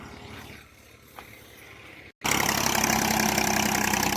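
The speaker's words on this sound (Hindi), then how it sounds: "ये आ गया ट्रैक्टर" Tractor engine on a farm field at night, a quiet idle that cuts out briefly, then returns as a loud, close, steady throbbing run with a dense mechanical roar.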